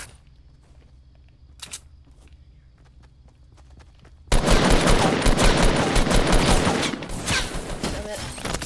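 Dense, rapid gunfire from the video game Fortnite bursts in loudly about halfway through and keeps up as a sustained barrage, after a stretch of quiet light footsteps and soft taps.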